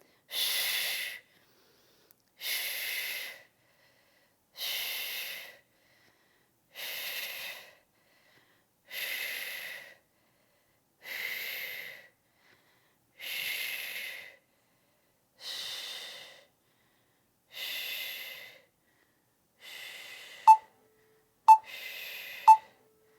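Rhythmic breathing during a prenatal lower-body band workout: about ten steady, close breaths in even succession, each a soft airy hiss, with a few sharp clicks near the end and no talking.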